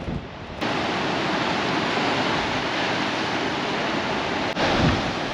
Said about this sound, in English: You can hear the blowholes and they sound so cool.